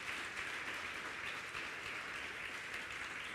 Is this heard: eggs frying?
no